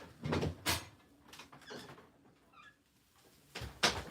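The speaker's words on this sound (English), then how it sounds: "Probably gonna come back inside, so we'll close this door." Indoors, a door is pushed shut with a couple of soft thumps and rattles, followed by a final firm closing knock, fairly quiet with small squeaks between.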